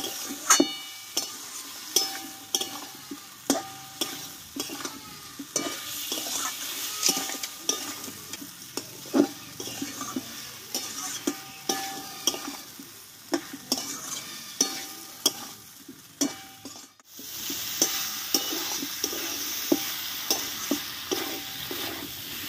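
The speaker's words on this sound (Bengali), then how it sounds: "পোস্ত আর নারকেল বাটাটা দিয়ে কিন্তু 2 মিনিট মতো ভালোভাবে আমি কষিয়ে নিয়েছি।" Poppy seed and coconut paste stir-fried in a pan for a vegetarian potato and pointed gourd dish, with a steady close sizzle and repeated scraping, clacking strokes of a spatula against the pan throughout.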